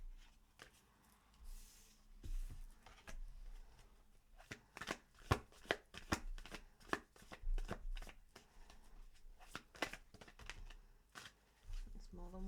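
Tarot cards being shuffled close up, quiet with a flurry of sharp riffling taps and slaps building in the middle section.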